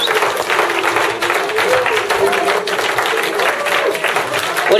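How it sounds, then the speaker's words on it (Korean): A church audience gives dense, sustained applause to welcome a mission team at a performance in Mongolia, loud and continuous with crowd murmur. "들어오실 때 힘찬 박수"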